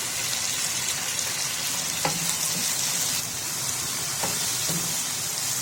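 Chopped tomato and yogurt fry in a pan of spiced masala, giving a constant close sizzle with a couple of faint utensil clinks and no talking.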